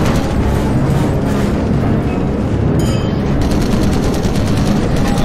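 Wartime gunfire in the World War II shooter Call of Duty: United Offensive, during the bomber mission: a dense, continuous wall of shots and booming blasts that holds steady and loud throughout, with no talk.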